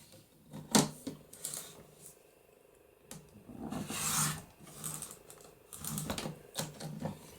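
Paper being cut and scored for a Christmas papercraft card with window flip pockets, heard as several separate rasping strokes with quiet pauses between them, close up and with no one talking.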